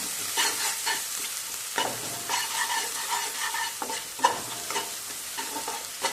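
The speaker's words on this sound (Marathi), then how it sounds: "कांदाही असा लालसर रंगावरती परतवून घ्यायचा आहे" Onions sautéing in a pan for a black bean curry, a steady sizzle broken by repeated scraping strokes of a spatula as they are stirred, close and moderately loud with no talk.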